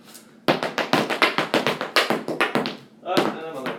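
Irish step dance shoes tapping a hard floor in a quick, even series of about a dozen sharp taps, a brief pause, then more stepping, close and clear.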